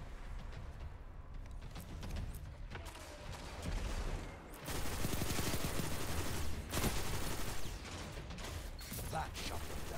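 Gunfire from the Destiny 2 video game, a dense run of rapid shots and mechanical clatter over busy game noise, swelling louder in the second half with bursts continuing to the end.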